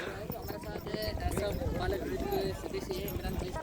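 Hooves clip-clop steadily as several horses walk about at a horse racing event, with people talking nearby over a busy outdoor background.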